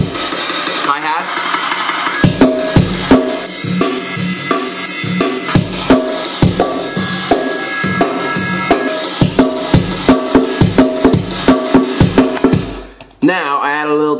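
A programmed drum loop with bright hi-hats ticking in a fast, steady rhythm over punchy beats, running continuously and loud before cutting off near the end into a short warbling synth tone.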